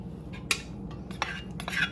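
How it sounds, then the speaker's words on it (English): Utensils clinking and scraping against a bowl while mint-steeped vegan butter is strained, several short sharp metallic taps among soft rubbing, close and fairly quiet. "now we're just going to kind of strain the butter out because we want the butter"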